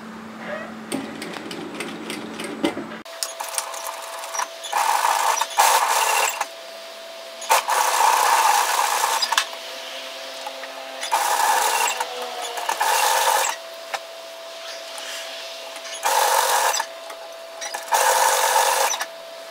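A sewing machine top-stitches the placket of a shacket in repeated bursts of a second or two, loud and close, each run separated by short pauses.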